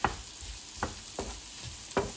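Chopped onions sizzle in a frying pan with a constant soft hiss, broken by four distinct scraping strokes of a spoon stirring them at uneven intervals, close and moderately loud with no talking.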